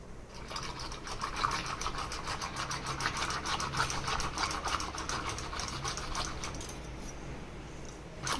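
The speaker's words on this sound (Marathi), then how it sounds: "तर हे चांगलं हलवून घ्यायचं" Curd is stirred with cold water in a vessel for buttermilk. A rapid, even, scraping swish repeats for several seconds, close and moderately loud, and slows near the end.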